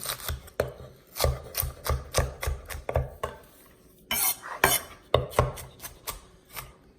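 A knife chops onion finely on a board in uneven bursts of sharp, close taps, with some clatter of utensils between strokes.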